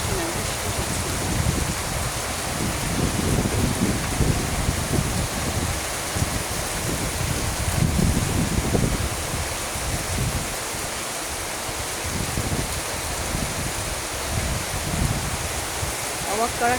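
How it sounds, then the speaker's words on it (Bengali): Rain falls outdoors during a sun shower, a steady broadband hiss of drops on surfaces with soft fluctuations, continuous throughout and slightly rough at close range. "এটা বানানো বৃষ্টি না, বৃষ্টি হচ্ছে।"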